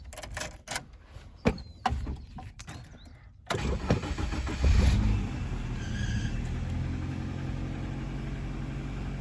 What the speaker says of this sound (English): I guess I could fire the car up and let you kind of hear it.